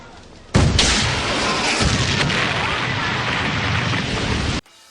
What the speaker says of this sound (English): anyone who can blow up a demon with a rocket launcher